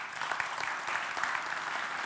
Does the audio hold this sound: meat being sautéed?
no